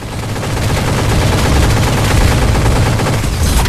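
Mech arm cannons in a VR video game fire in a loud, continuous barrage of rapid gunshots, a dense machine-gun-like rattle with heavy low booms that holds steady for several seconds with no talking.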